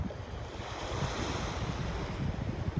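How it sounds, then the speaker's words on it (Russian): Calm Black Sea waves washing ashore at Sochi in February, mixed with a light sea breeze: a steady, fairly loud surf rush with soft rumbling wash and wind noise throughout. "море спокойное, водичка прозрачная, с моря дует легкий ветерок."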